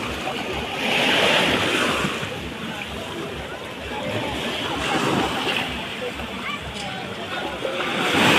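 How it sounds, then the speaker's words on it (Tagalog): Strong ocean waves roll in at a beach resort, a loud continuous roar of surf and wash with swells rising and falling, close and dominant, with faint voices underneath. "Sobrang lakas ng alon."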